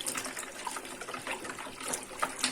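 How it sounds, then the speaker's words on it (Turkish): Water poured into sugar while making homemade lemonade, a steady light splashing and trickling stream with small bright spatters, close and fairly quiet, no voices. "Daha sonra suyumu eklemeye devam ediyorum."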